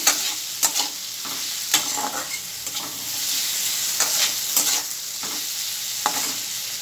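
Salted fresh river satting fish fries in oil to a reddish crisp, a loud, close, continuous sizzle with scattered spatula taps and scrapes.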